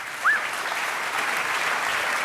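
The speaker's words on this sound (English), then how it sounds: "Round of applause." Applause from an audience at the end of a talk on data-driven ecosystems in the automotive industry, sustained and dense crowd clapping, moderately loud, with a brief high whistle-like squeak near the start.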